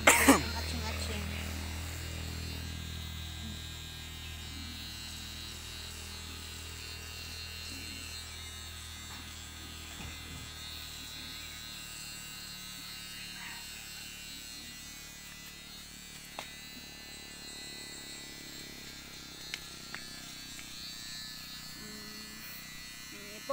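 Electric clippers shaving an elderly man's hair, beard and mustache, a faint continuous buzz behind nearby talk and occasional coughs.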